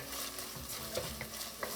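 Onion sautéing in a pot for chicken tortilla soup gives a soft, steady sizzle with faint stirring scrapes, quiet and close, no voices.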